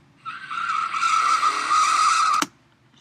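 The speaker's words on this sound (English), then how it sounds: "ooh, there's some car screeching here." A car's tires screech in one sustained, loud squeal lasting about two seconds, then cut off with a sharp final thump, as a standalone sound effect.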